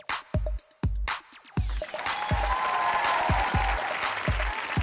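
Studio audience clapping on a dating show, opening with several loud, isolated sharp claps and percussive hits, then swelling into sustained applause from the crowd.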